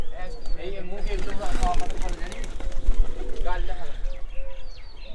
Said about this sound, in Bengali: দেখেন আমাদের কবুতরগুলো এখন পানি খায় বলে হুটোপাটা করছে